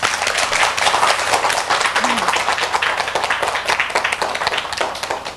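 An audience at a Korean educational lecture applauds to welcome the professor, a dense, sustained round of many hands clapping that fills the room and slowly fades toward the end.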